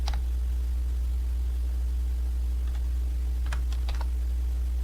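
A computer keyboard being typed on while entering Python code, with a few sparse keystrokes and a cluster of clicks near the end over a constant low hum.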